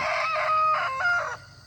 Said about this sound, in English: All the random poultry is singing their phrases.